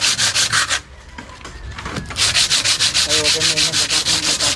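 Sandpaper rubs over wood in quick, regular back-and-forth strokes, loud and close, with a brief pause before the rhythmic scraping resumes steadily.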